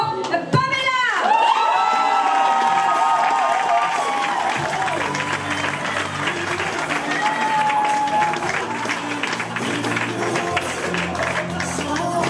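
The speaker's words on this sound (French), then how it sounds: "Je vais vous demander d'applaudir très, très, très fort Pamela!" A stand-up comedy audience bursts into loud applause mixed with cheers and whoops, building after a brief musical flourish and staying strong and continuous, with some voices shouting over the clapping.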